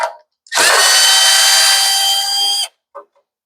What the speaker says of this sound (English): we'll start off by pulling pretty much every screw that we can find that might be holding this carburetor on